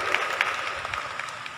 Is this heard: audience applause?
yes